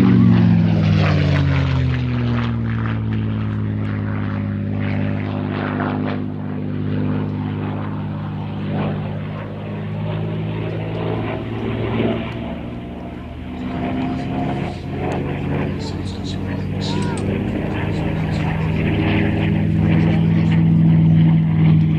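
P-51 Mustang propeller fighter at an air show in the Midlands, a loud piston engine drone with shifting tones as it passes, swelling near the start and end, with a voice commentating.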